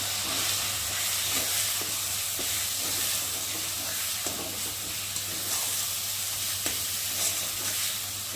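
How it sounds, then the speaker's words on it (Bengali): A spice paste of turmeric, chili powder and salt fries in a pan for fish kalia, with a steady close sizzle and repeated stirring scrapes and taps, and no voices. "দিয়ে দেবো লঙ্কার গুঁড়ো, পরিমাণ মতো নুন দিয়ে মশলাটা ভালোভাবে কষিয়ে নেব।"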